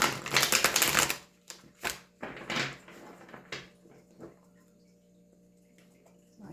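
A deck of tarot cards is shuffled up close, first as a loud fluttering riffle, then as a series of softer taps and slides while the cards are squared and handled, with a faint steady hum behind.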